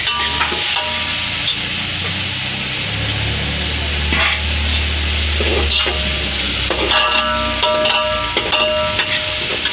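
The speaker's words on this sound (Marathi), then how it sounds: "कांदा लवकर पेटल. हलत टाक." Chopped onion fries in a hot pan for a crab curry, with a loud, steady sizzle and repeated scraping stir strokes throughout, up close.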